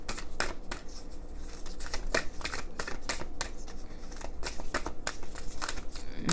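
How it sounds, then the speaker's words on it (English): Starseed Oracle cards being shuffled by hand at close range, a steady run of soft riffling slaps and flicks repeating for several seconds without talking. "Starseed Oracle a shuffle."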